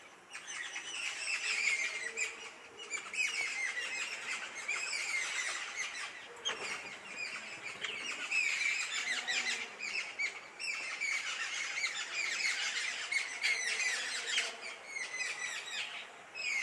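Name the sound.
birds chirping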